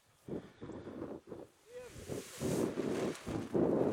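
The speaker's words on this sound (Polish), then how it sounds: "Super wiatr, patrz." Strong wind buffets the microphone outdoors in gusty bursts, loud rumbling surges under and between people talking and shouting close by.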